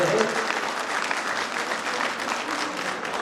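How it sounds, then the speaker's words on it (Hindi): Loud, dense crowd applause at a political rally in Jharkhand, sustained and steady throughout, with cheering mixed in. "जोरदार ताली को बजनी चाहिए मेरे भाई बहन"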